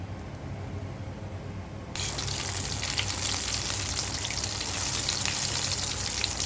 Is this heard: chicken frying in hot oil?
yes